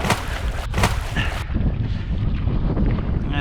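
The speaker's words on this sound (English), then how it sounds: "Wind's picking up a little bit more now." Steady wind buffets the microphone while canoeing on a lake near Kingston, Ontario, a loud continuous rumbling roar with water sloshing beneath, no talking.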